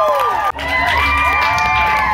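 A poetry slam audience at an arts festival cheering and whooping loudly, with high excited voices and shouts rising over a dense crowd roar, close and sustained.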